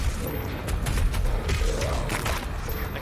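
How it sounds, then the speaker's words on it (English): Heavy booming explosions of red barrels in the video game DOOM Eternal rumble one after another in a dense, continuous barrage, loud and close, with crackling debris bursts layered through them. "Shoot red barrels for fun. Big old explosions."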